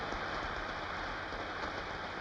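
Rain pouring down in an even, dense hiss, steady and fairly soft throughout with no break or voices.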